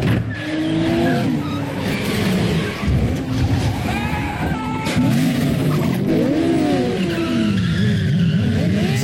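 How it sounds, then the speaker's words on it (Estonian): A BMW M3 skids and squeals its tires through a narrow street during a chase with motorcycles, with loud continuous tire screech and engine revving. "See on üks väga ilus BMW M3 lihtsalt, mida nüüd väga julmalt ära retsivad."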